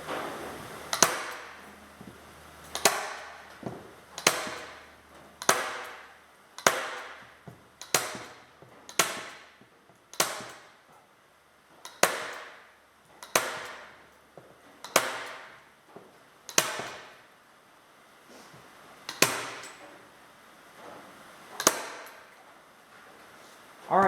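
A staple gun fires into an otter pelt while it is being fleshed and mounted, giving about fifteen sharp metallic clangs at a fairly steady pace of roughly one every one and a half seconds, each close and loud with a short ringing decay.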